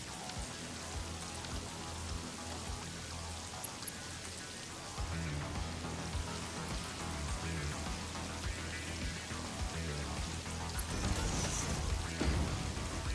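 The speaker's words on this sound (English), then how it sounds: "The raining just got louder." Steady rain falling in the video game Satisfactory while crossing from desert into a tropical reef biome, a dense, continuous hiss of drops that swells louder partway through, with a low background hum and no talk.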